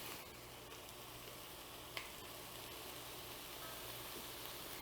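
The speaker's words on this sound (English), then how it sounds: "And now we want to just let it saute for a couple of minutes." Vegetables for a Three Sisters salad sauté in a pan with a soft, steady sizzle, faint and continuous, with one small clink of a utensil partway through.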